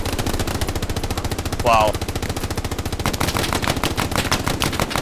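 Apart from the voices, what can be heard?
machine gun covering fire in Hell Let Loose video game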